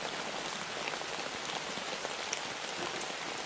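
Steady rain patters on a Kelty military field tent in light rainfall, a dense, even hiss of drops on fabric with scattered sharper taps, continuous and close with no voices.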